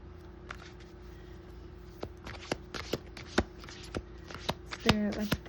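A deck of tarot cards is shuffled and cut in a quiet room: a run of crisp, separate flicks and taps that grow denser and louder, finishing in a quick riffling burst close to the microphone.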